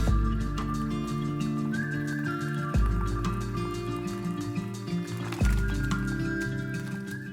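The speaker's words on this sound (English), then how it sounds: "Pour the stock into a large bowl using a sieve or colander to catch the solid ingredients." Stock pours through a colander into a large bowl, a continuous splashing, trickling flow with bursts of sloshing as liquid is tipped in again, fairly close and loud.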